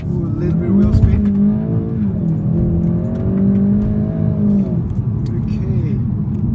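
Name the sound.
2018 Golf GTI launch control start with wheel spin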